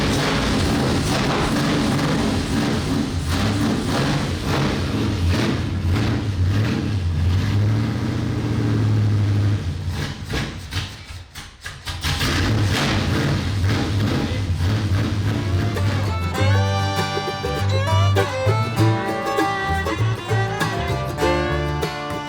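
A NASCAR race car engine idling and revving loudly while reversing out of a cramped home garage, a continuous close rumble that dips briefly midway before picking back up with rising revs.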